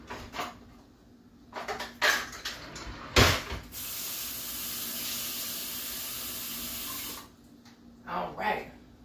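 A kitchen tap runs to fill a cup with water, a steady rushing stream for about three seconds, framed by nearby clattering and talking before and after.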